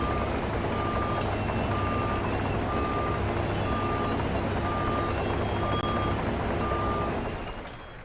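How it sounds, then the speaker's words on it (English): A rock truck in the Farming Simulator 25 game sounds evenly spaced reversing beeps over a loud, steady diesel engine drone, about eight beeps in a row before the engine noise begins to fade. "Roll back the rock truck."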